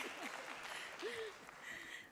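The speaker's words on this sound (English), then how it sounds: "Can we please give a round of applause while she's coming up?" Quiet audience applause at a water process controller day event, soft and diffuse throughout, with a voice briefly heard over the clapping.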